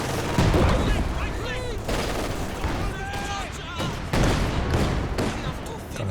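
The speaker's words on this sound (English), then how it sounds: "Is this barrage coming through?" Artillery barrage in a Company of Heroes 2 3v3 match: repeated heavy booms and bursts of gunfire spread across the scene, with a speaking voice running over the combat.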